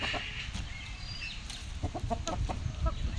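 Chickens cluck and squawk close by in a busy, irregular flurry, several birds calling over one another with rustling and scuffling beneath.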